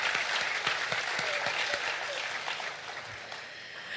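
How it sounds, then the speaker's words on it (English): A ceremony crowd at a marine laboratory stamp unveiling applauds steadily, a dense, moderately distant patter of many hands that holds evenly and tapers slightly toward the end. "applause again"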